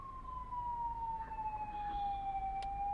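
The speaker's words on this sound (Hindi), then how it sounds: "So this car is to different sirens, well and Yelp. तो अगर आपको वेल सुनना है तो आप सुन सकते हैं," The wail siren of a Mahindra Bolero Neo+ ambulance sounds as one long, slowly gliding tone, clear and steady, heard alone without talk.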